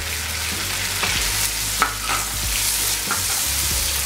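Liquid ingredients including balsamic and apple cider vinegar poured onto chicken frying in a wok for Filipino adobo, giving a steady loud sizzle with occasional stirring scrapes and clinks.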